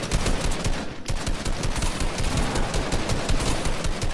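Sustained rapid gunfire in a video game shootout, dense and loud machine-gun-like bursts rattling continuously with barely a pause, and no talk over it.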